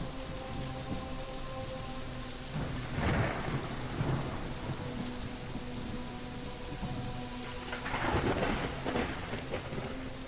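A thunderstorm pours steady rain across a surface while two deep, rolling thunder rumbles swell up, the first a few seconds in and a louder one near the end, with no voices.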